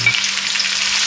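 Chopped onions fry in hot oil for a Ghana red fish gravy, a close, steady crackling sizzle with no voices.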